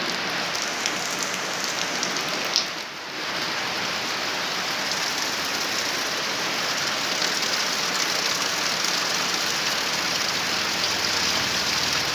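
Heavy rain pours steadily for the whole stretch, a dense, even hiss of drops on surfaces with a brief dip partway through, with no voices.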